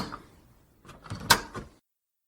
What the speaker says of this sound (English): Eden bolted the door behind his two colleagues.